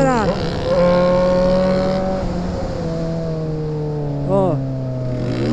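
A car engine revs hard as it accelerates in loud, rising sweeps, falling back and then surging again in a second sharp rev near the end.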